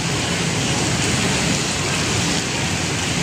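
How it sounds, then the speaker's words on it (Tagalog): Steady, dense rain pours over the flooded Pasig River near the Jones and MacArthur bridges and the Esplanade during Typhoon Tino, a loud, unbroken hiss with no pauses. "Ulan, humihina na."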